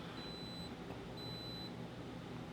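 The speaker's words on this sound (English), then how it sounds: "Should hear a beep." A Polaroid Cube camera powers on with two short high-pitched electronic beeps, spaced about a second apart, faint over steady background room noise.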